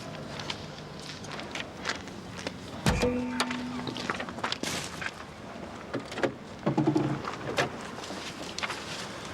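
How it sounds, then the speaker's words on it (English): Car bonnet opened: a sharp metallic thunk followed by creaks and rattles of the hood, with footsteps and movement around the vehicle, close and fairly clear. "Let's open the bonnet, see if it is a clone."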